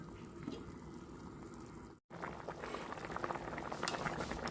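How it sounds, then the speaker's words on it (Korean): Soybean sprouts simmer in a dried pollack and radish soup, giving a steady close bubbling boil that pauses for a moment at the midpoint, then resumes a little louder and busier. "이렇게 콩나물을 넣고 또 한 번 더 끓여줘요."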